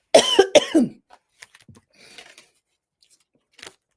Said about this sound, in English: Just let my throat clear.